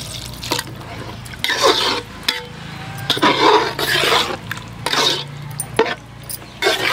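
Water poured into cauliflower gravy simmering in a pan, a splashing, trickling pour in uneven bursts with brief pauses, close and moderately loud, with no talking.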